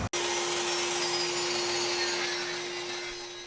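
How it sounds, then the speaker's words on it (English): A saw cuts through a poplar board in a steady, continuous whine with a sustained tone, loud and close, running alone for a few seconds without talk. "Here I'm making the cuts on the poplar board."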